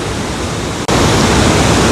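A Scottish waterfall roars as a loud, steady broadband rush of falling water heard close by. A momentary cut interrupts it partway through, and no one speaks.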